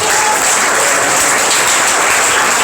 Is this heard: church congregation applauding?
yes